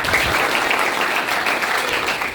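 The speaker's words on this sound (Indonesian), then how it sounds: "Boleh tepuk tangan?" A class of students gives brisk applause in an Indonesian church-themed lesson, close and loud dense clapping that holds steady throughout.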